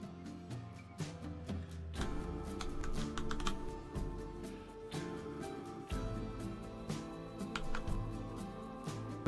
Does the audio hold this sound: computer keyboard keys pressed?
yes